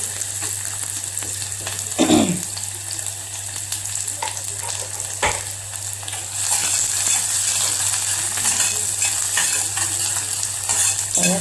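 Chopped onion dropped into hot oil in a pan for a Maharashtrian mixed seasonal vegetable dish, giving a steady close sizzle with a burst as it goes in and occasional stirring clinks.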